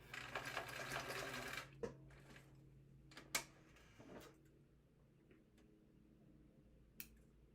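A sewing machine back stitching a pocket on a minimalist wallet: a short burst of rapid needle stitching at the start, then quiet handling with a few sharp clicks and knocks.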